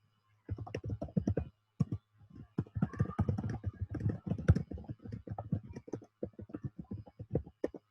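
Rapid typing on a computer keyboard at a Git Bash command prompt, dense runs of close, crisp key clicks with brief pauses between bursts, no talking.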